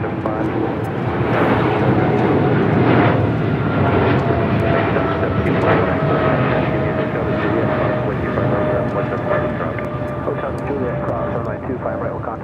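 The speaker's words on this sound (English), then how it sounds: "This is DHL operated by Coletta, flight 262, taking off to Tokyo Narita on a 777 freighter" A DHL Boeing 777 freighter operated by Kalitta, flight 262 to Tokyo Narita, takes off at LAX, its engines a loud sustained roar with a rising tonal whine, fading slightly toward the end.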